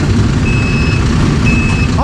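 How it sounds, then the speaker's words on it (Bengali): A vehicle backing up on a highway gives out a steady, high electronic reversing beep heard twice over a loud, constant rumble of road noise. "গাড়িটা ব্যাক করছে"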